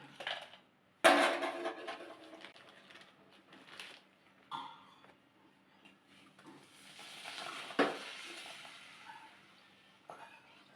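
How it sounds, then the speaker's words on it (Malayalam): Child playing with kitchen pots and vessels in a home, producing scattered clanks, scrapes and metallic knocks at irregular intervals, fairly faint and close, with a soft voice in the background. "കുട്ടിയാണെങ്കിൽ അടുക്കളയിൽ നിന്ന് ഓരോ പാത്രങ്ങളൊക്കെ കൊണ്ടുവന്നിട്ട് അവൻ്റെ വക കുക്കിംഗ് ആണ് അവിടെ."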